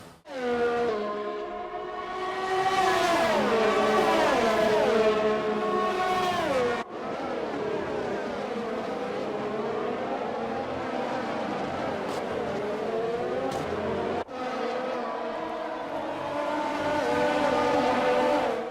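F1 cars in the F1 2020 racing game at the Australian Grand Prix roar past in long, loud, high-revving engine whines with rising and falling pitch, sweeping by one after another without any talk.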